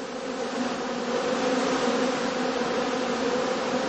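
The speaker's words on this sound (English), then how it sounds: "On sunny and warm October days, bees can still be seen flying" Honeybees fly around heather skeps in an autumn heathland apiary, giving a steady, dense buzzing drone that holds evenly throughout, close and moderately loud with no voices.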